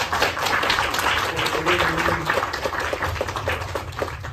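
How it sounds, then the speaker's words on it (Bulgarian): An audience applauds a teacher at a Bulgarian Day of the Enlighteners event, with continuous dense clapping from a hall crowd at moderate loudness. "Просто аплодисменти"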